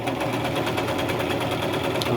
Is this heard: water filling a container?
no